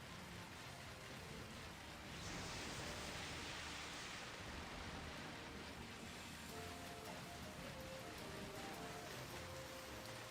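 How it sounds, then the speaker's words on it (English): Steady rain falls in Pokemon Sword and Shield, The Isle of Armor expansion, a soft continuous hiss that thickens briefly in the middle and carries on evenly throughout. "No, I'm just seeing the rain."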